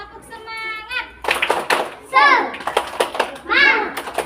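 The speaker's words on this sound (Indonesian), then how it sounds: "kita tepuk semangat dulu ya" Children in a school classroom clap the rhythmic tepuk semangat pattern in short bursts of sharp group claps, close and loud, mixed with kids' voices and a teacher talking between the rounds.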